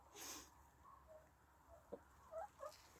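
A rooster clucks near its flock at a rural cabin, a few soft, short calls scattered across a quiet background, with one louder squawk near the start.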